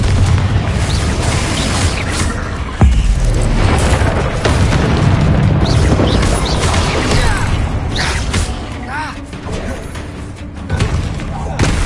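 Booming spell blasts from the Confringo and Bombarda spells in the video game Hogwarts Legacy burst out loudly one after another over a dense, rumbling combat mix.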